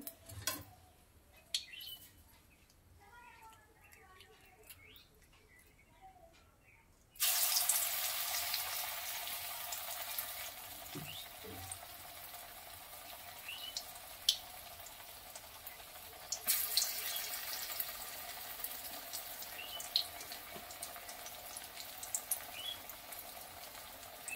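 Cauliflower pakoras frying in hot oil, with a quiet stretch at the start and then a constant soft hiss and bubbling that goes on steadily, broken by a few small clinks.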